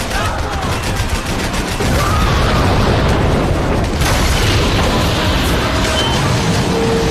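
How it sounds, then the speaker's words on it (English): Dense gunfire fills a Max Payne 3 firefight in a swamp, with rapid bursts, booms and sharp whizzing shots crowding in nearby, loud and unbroken, mixed with occasional shouting voices. "Bullets whizzing past my head!"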